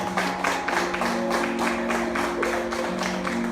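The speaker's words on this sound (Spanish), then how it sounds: "Denle un aplauso al Señor." A church congregation claps in a quick, even rhythm over sustained musical tones, with the beats moderately loud and close throughout.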